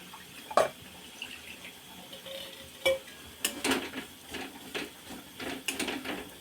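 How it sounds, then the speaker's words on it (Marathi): Masala with roasted peanuts and coconut is sautéed in a pan, heard as a soft sizzle under sparse, distinct scrapes and clinks of a spoon stirring against the pan. "थोडासा मसाला परतून घ्यायचा आहे"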